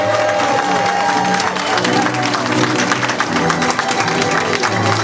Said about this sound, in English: let's give him a big round of applause here